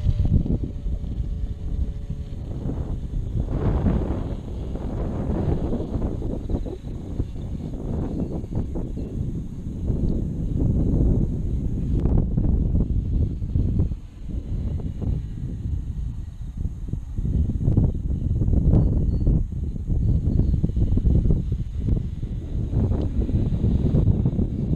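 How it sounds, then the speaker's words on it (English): Wind buffets the microphone outdoors near a Tundra model aircraft with a folding prop, a steady broadband rumble with gusty swells throughout, fairly loud and alone. "we're sort of into the breeze now, into the wind"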